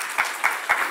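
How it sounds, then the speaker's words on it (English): Applause from an audience at a science convention award ceremony, a short burst of dense clapping with a few louder sharp claps standing out. "One more round of applause,"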